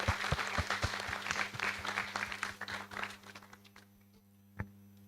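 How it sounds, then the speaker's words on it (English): Audience at a memorial law lecture clapping heartily, loud dense applause over a steady electrical hum that thins out and fades, ending with a single late clap. "they deserve a hearty round of applause for the success that was this lecture"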